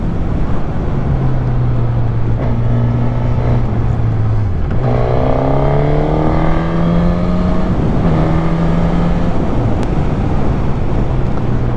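A 2021 Suzuki GSX-S 1000 four-cylinder motorcycle in A2-restricted form, loud and close, its engine revving up through the gears with rising pitch sweeps and brief drops at each shift, under heavy wind rush.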